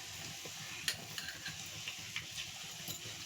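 Fenugreek and mustard seeds fry in hot oil with a faint, steady sizzle, scattered small pops and light ticking crackles rising over the hiss.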